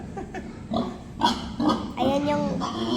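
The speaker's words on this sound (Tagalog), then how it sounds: "Yung mga baboy namin." Pigs grunting at a pig farm, a series of short oinks and snorts close by, with people talking over them.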